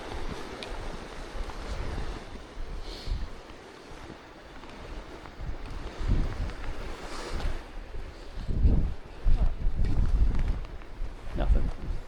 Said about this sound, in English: The quick fade of sound of waterfall to just running water.